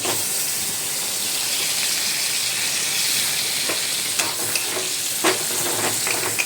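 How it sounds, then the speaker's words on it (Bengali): Oil and rendered fat crackle and hiss in a hot kadai for a pointed gourd and potato curry, a dense, close sizzle that stays constant, punctuated near the end by sharp spatters and stirring clicks. "কড়াইতে তেল দেবো, দিয়ে এই চর্বিটা যেটা ছিল সেটা আমি দিয়ে দেবো।"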